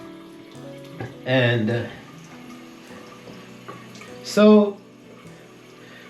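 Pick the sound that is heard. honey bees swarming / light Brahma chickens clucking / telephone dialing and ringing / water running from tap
water running from tap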